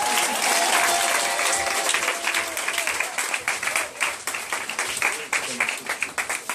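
A church audience claps and cheers for Jesus at a prophet's gathering, broad applause that thins into scattered claps while a voice speaks over it.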